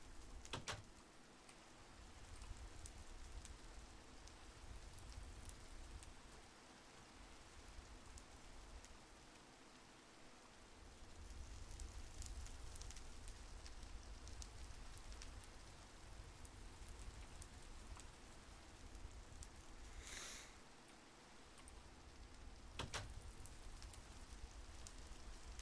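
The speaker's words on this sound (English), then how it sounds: "Hey, look at that. Rain." Rain falls steadily in Minecraft with the SevTech modpack, a continuous quiet hiss with faint pattering and a couple of sharp clicks, with nothing else over it.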